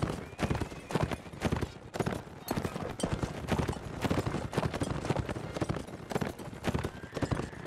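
Horse hooves clip-clopping at a steady gallop in Mount & Blade: Napoleonic Wars, loud and close, with scattered musket gunfire and a brief whinny mixed into the busy cavalry battle noise.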